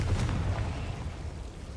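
A Confringo fire spell blasts in the Hogwarts Legacy video game, a short low booming explosion that fades into a rumbling tail over under two seconds.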